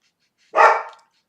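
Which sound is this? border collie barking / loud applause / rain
border collie barking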